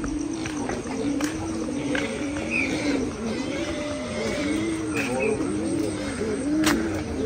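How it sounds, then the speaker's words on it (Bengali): A pigeon coos repeatedly in soft, rolling phrases from the corner of a house on a quiet morning, fairly close and steady throughout, with a few faint chirps and background noise around it. "কবুতরের ডাক শুনতে পাচ্ছেন কিনা? এই যে ঘরের কর্নারে"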